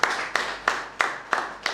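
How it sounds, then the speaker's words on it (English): Hand clapping at a business breakfast meeting, about six sharp, evenly spaced claps close by, like a small group clapping briefly in unison. "Please, a round of applause for him."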